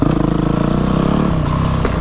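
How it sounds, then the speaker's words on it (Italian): A Yamaha YZF 250 four-stroke dirt bike engine idles close by with a rapid, throbbing putter and slight revs, loud and steady throughout. "questa è la moto."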